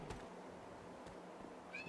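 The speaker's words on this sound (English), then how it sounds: "I'm so sorry if you can hear my cat, by the way." A pet cat meowing faintly in a quiet room, a short high-pitched meow near the end after a couple of soft clicks, distant and low in level.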